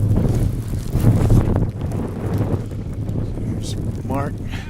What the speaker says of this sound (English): Some serious wind blowing.